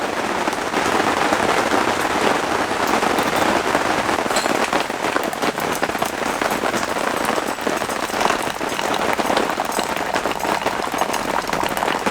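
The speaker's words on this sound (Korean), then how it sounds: "그래도 이렇게 아예 비가 와주니까 너무 좋아요" Steady rain drums on a tent during a summer solo camping trip, a dense, even patter of crackling drops that stays loud and close without a break.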